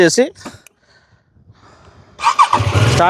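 A BMW F450 GS motorcycle engine starts and settles into a faint, low idle, with someone talking loudly just before and just after.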